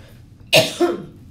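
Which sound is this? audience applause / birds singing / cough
cough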